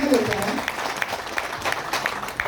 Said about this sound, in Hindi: एक बार जोरदार ताली लोगों के लिए और जबरदस्त ताली बजेगी